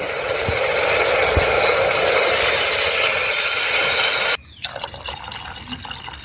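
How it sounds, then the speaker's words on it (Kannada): Water pours steadily into a 3-litre pressure cooker in a continuous splashing stream for several seconds, then stops abruptly, leaving quieter clinks and room noise. "ಈಗ ಇದಕ್ಕೆ ನೀರು ಹಾಕ್ತೇನೆ"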